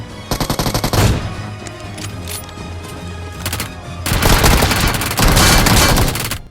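Gunfire from an AWM sniper rifle and a P90 in a video game: loud, rapid automatic bursts that crackle and pause, then return in dense volleys, with no talking.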